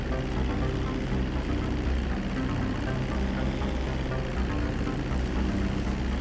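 Propeller airplane engine in Grand Theft Auto V, a steady, loud drone that fills the whole stretch with no letup and no talk over it.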